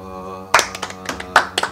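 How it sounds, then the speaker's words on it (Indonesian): A few sharp hand claps land in two short bursts after a brief pause, close and crisp over a steady tonal background. "Tepuk tangan dong."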